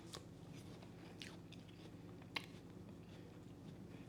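Bites into a frozen apple slice give several faint, short crunches and chewing sounds spread over a few seconds, close but quiet, with one sharper crack near the middle.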